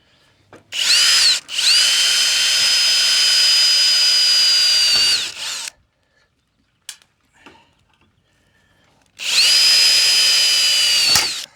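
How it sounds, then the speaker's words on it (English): A high-pitched power drill whines loudly at close range in two long bursts, driving self-tapping screws into solar panel mounting rails, with a short gap of faint clicks and handling noise between them; the drill bit breaks. "broke the drill bit"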